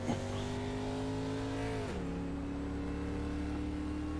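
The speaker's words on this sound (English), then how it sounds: "you can hear the bumper dragging on that car number 11" Simulated NASCAR race car in a racing video game, engine droning steadily with harmonic tones that drop in pitch midway, a continuous scraping bumper-drag noise blended under the loud, close engine with no talk.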